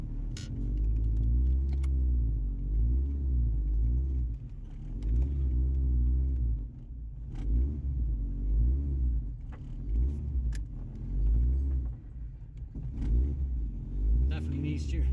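Car engine idling and running unevenly as the car is driven back in, a steady low rumble with lumpy surges and occasional clicks, close and continuous.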